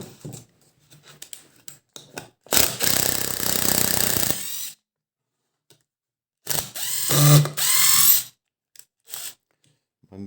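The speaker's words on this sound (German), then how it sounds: "jetzt schrauben wir die OSB-Platte wieder ab" A ratchet tool backs screws out of an OSB board in a wood workshop, giving two separate runs of rapid, close mechanical clicking and whirring with short quiet gaps and a few scattered small knocks.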